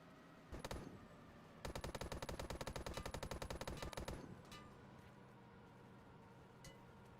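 Mounted turret gun in Blackhawk Rescue Mission 5, a short burst followed by a long rapid stream of evenly spaced automatic shots lasting a few seconds, close and punchy, then stopping into quiet.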